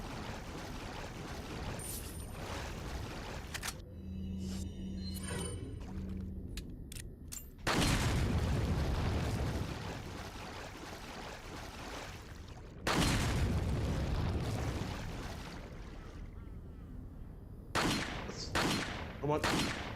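Gunfire from the video game Resident Evil 4 plays as several loud, sharp bursts of shots spread across the stretch, over quieter game sounds, with a voice talking at times.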